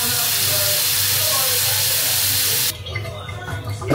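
Water steadily running or coming to a boil in a pot for cooking rice on the stove, a loud even hiss that cuts off abruptly near the end, leaving quieter clinks and room sounds.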